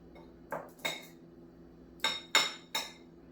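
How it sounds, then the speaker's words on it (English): Shrimp and a coconut keto coating are mixed in a bowl, giving five sharp, fairly quiet clinks of a utensil against the bowl, two early and three close together later, with no voices. "I'm just going to mix this together."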